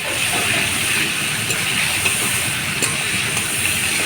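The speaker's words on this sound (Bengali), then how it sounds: "অল্প লবণ দিয়ে দেবো, দিয়ে টমেটোটা ভেজে নেবো" Tomatoes frying with slit green chillies and salt in a pan give off a dense, continuous hiss and sizzle, steady and fairly loud, with faint clicks from stirring now and then.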